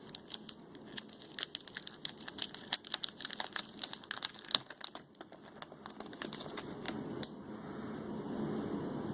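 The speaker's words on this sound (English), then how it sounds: "I'm just going to very gently crack the seal here and take a look." Plastic seal on a Final Fantasy XIV: A Realm Reborn collector's edition box being gently broken, a run of soft crinkles, crackles and small snaps close by and quiet, with no talking.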